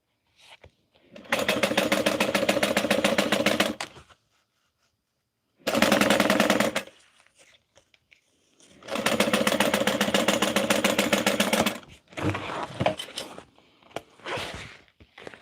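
Sewing machines stitching bags run in three long, steady, loud motor-driven bursts with short silent pauses between them, followed by softer handling and shuffling noises near the end.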